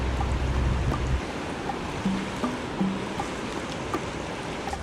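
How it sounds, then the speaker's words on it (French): Fast river current on a trout stream, a steady broadband rush of flowing water heard up close, with a heavier low rumble over the first second and a few faint tonal knocks. "C'est sûr que le courant, il est rapide."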